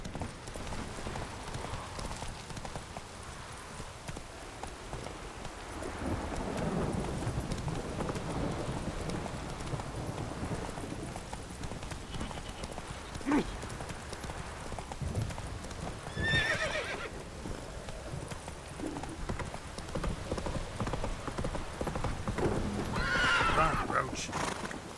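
Horse Roach galloping in The Witcher 3: Wild Hunt, steady hoofbeats and a couple of neighs over rain and rumbling weather, with voices talking at points.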